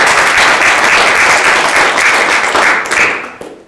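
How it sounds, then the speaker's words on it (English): An audience at a talk bursts into a dense, loud round of applause, many hands clapping at once for a few seconds before it quickly tapers off. "Let's give her a big round of applause."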